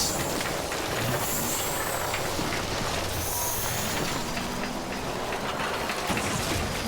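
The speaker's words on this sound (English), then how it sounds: "this rain is eating away at my bike" Steady rain falls in the Death Stranding video game, a dense, even hiss of water that holds without pause from start to finish, with faint low rumbling underneath.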